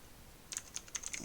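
Computer keyboard keys tapped while typing Python code, a short burst of about six quiet, crisp clicks in uneven rhythm after a brief silence, close and alone.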